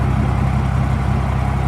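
Cummins diesel engine in a CVRT armoured vehicle idling, a close, steady low rumble with an even pulsing beat and no change in revs.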